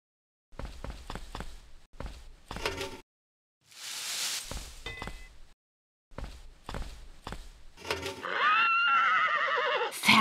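A foal in the Bibi und Tina horse-farm video game neighs near the end in a loud, wavering whinny, preceded by clusters of sharp hoof clops and a breathy snort, with short gaps between them.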